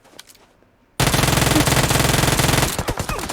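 Loud rapid automatic gunfire erupts in a battle royale shooter after a quiet moment, a dense sustained burst lasting under two seconds before tapering into scattered shots.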